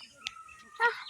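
A bird calls in a park: a brief, faint chirp early on, then a louder, fuller call near the end, both over quiet background.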